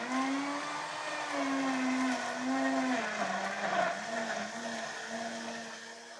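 A kitchen blender whirs through watermelon, pineapple and beetroot, its motor holding a steady droning pitch that wavers and dips as the fruit churns, loud and continuous throughout.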